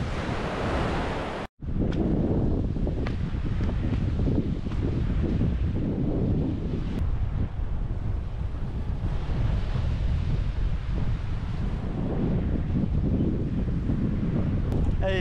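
Wind and sea waves in the lee of an island, with a steady loud roar of wind buffeting the microphone over rolling surf, broken by one brief dropout near the start.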